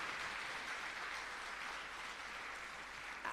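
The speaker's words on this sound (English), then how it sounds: "they deserve a bigger round of applause" Applause from a graduation audience at a coding academy ceremony, a steady, soft wash of clapping held at a distance for the whole stretch, with no voices over it.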